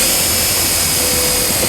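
A power driver with a 1/4 inch socket runs a self-tapping ground screw into a 2009 Volvo XC90 during trailer wiring installation, a steady loud whine holding an even pitch throughout without pause.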